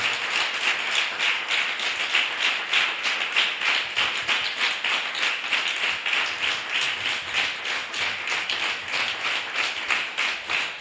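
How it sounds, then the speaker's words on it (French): A church congregation claps rhythmically during worship, a steady, even beat of many hands repeating throughout at moderate volume, without voices over it. "applaudis pour le roi des rois"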